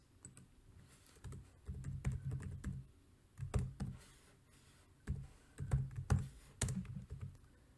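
Computer keyboard typing while entering HTML code, quiet close clusters of quick key clicks in short bursts with brief pauses between, no speech.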